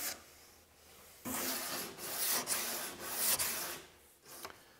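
Sandpaper rubs along wooden edges to knock off sharpness, producing soft, close scratchy strokes in a continuous, slightly uneven rhythm, fairly quiet and with no talking.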